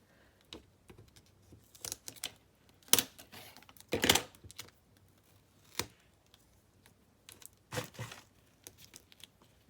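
Scissors snipping through paper and packaging scraps while assembling a trash junk journal cover, with irregular crisp cuts and crinkles close to the mic, a few louder bursts among quieter rustles, no talking.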